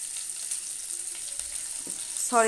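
Onion paste sizzling in a hot pan for a ridge gourd mash, a steady quiet frying hiss with a brief scrape near the end.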